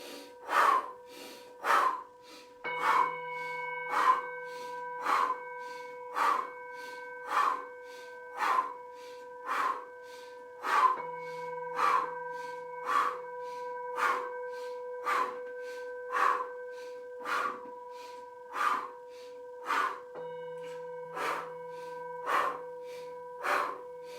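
Rapid, forceful breaths pulse in a steady rhythm during a fast-breathing exercise in a guided meditation, close and loud, about twenty sharp bursts with faint tonal background music underneath.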